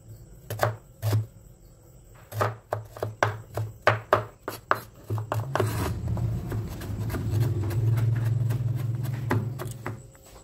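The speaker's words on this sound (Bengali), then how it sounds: "আদাটাকেও আমি চপ করে নেব।" A knife chops ginger on a cutting board with a run of crisp, close, fairly loud strokes in uneven rhythm, giving way to a denser rapid scraping and chopping near the end, with no talking.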